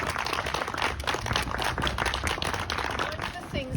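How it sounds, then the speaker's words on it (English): Round of applause for NHS, social care and frontline workers at a council gathering in Porthcawl: busy, continuous clapping from a room of people, with some voices mixed in. "Please can you all join me in a round of applause in recognition that not all heroes wear capes."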